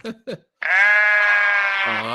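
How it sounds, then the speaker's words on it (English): Sheep bleat sound effect: two short clipped bleats followed by one long, loud, wavering bleat that trails off, close and clear with no talk. "Sheep."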